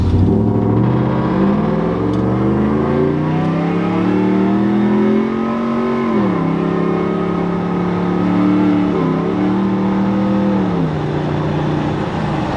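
A Ford F-150 pickup truck's engine drones continuously at highway cruising speed, its pitch rising slowly and dipping briefly a couple of times, loud and close with no talking.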